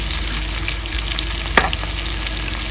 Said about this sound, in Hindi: सबसे पहले तो घी हम डाल देते हैं इस बर्तन में। घी गर्म हो चुका है। ऊपर से ये सारी जो चीजें हमने सब्जियां काटी थी ये सारी डाल देते हैं। हल्का सा पहले भून लेते हैं।